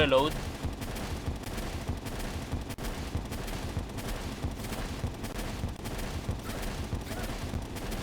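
Continuous rapid gunfire from the Vortex Beater gun in a Palworld PvP raid, a dense unbroken stream of shots heard at steady loudness amid busy game noise.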